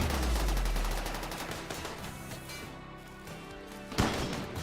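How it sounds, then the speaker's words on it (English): A heavy SMG fires in a video game, a fast rattling burst of shots at the start trailing into scattered fire and game noise, with a sharp impact near the end. "Equip the heavy SMG."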